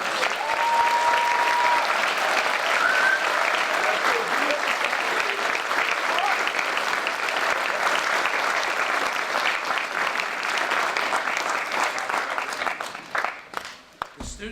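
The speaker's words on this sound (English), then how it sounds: "can we have another round of applause for all of us?" Sustained applause from an audience at a physician assistant white coat ceremony, a dense steady clapping that runs for most of the span before thinning out into a few scattered claps at the end.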